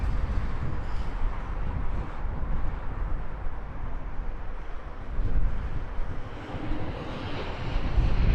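A British Airways Airbus A320neo in retro livery, inbound from Nice at Heathrow, gives a steady broadband engine roar with wind buffeting the microphone, holding level throughout with no voices.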